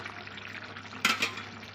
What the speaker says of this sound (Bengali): এবার বেগুনগুলোকে দিয়ে দিচ্ছি